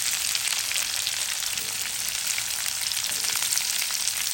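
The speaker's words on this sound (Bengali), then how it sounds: "শাকের জন্য তেল দিয়ে দিলাম। শাক ভাজি করব। শুকনো মরিচ গোটা, পেঁয়াজ" Whole dried red chillies and onion frying in oil for a leafy greens stir-fry, giving a dense, steady crackling sizzle that stays even and close from start to finish.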